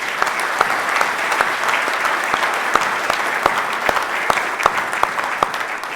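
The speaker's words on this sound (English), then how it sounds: "But just a big round of applause for him real quick." An audience at a 2022 Marine Corps ammunition technician awards ceremony applauds steadily, a dense close wash of clapping with a few sharper individual claps standing out, no voices over it.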